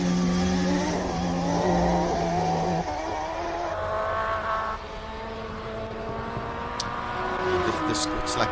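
Race car screaming up the Simola hillclimb course in a live broadcast, a loud sustained engine note with shifting pitch as the car passes and recedes, under a commentator's continuous talk.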